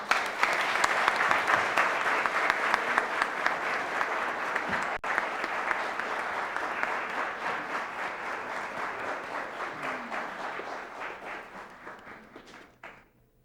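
Sustained audience applause at a solemn ceremony in Brasília honouring a doctor, a dense steady wash of many hands clapping for over ten seconds before slowly fading out.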